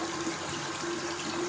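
Tap water runs steadily from a faucet into a sink while a makeup brush is rinsed under the flow, a continuous close splashing hiss with no talking.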